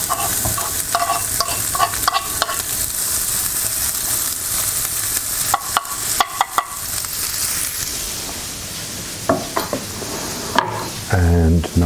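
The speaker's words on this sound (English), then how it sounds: "we can throw the onions into the same pan and just glaze them a little bit" Onions glaze in a pan of bacon fat with a steady sizzle, broken by sharp clacks of a utensil stirring against the pan.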